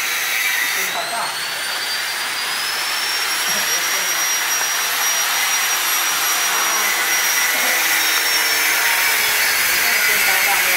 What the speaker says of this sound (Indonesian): Kita ada ready mesin penghancur